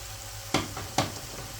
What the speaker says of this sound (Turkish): Şimdi salçamızı da şöyle güzelce karıştıralım içerisinde